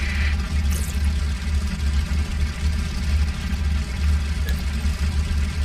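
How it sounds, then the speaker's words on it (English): WWII bomber aircraft engines warming up in the IL-2 flight simulator game give a steady, heavy droning rumble that holds evenly throughout, with no voices. "Get my coffee while the engines are warming."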